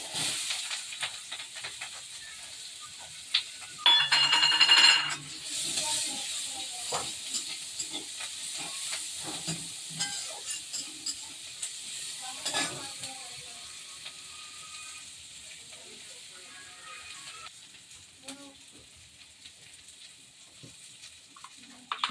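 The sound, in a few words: chopped onions with nigella seeds frying in oil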